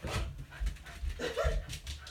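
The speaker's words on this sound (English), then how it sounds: "My dog goes a little bit crazy over those little bowls." A pet dog whines and gives short yips and barks while excited over small makeup bowls, close by in a room with steady background noise and no clear talk.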